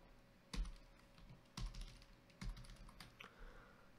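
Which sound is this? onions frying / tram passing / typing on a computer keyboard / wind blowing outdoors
typing on a computer keyboard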